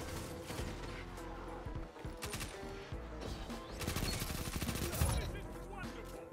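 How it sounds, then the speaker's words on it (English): Rapid gunfire and the thud of a grenade explosion crackle through a Destiny PvP match, a dense continuous barrage of shots over game music and effects. "I hear the grenade."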